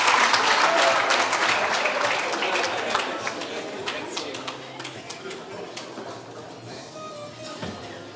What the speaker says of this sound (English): Let us give him a huge round of applause.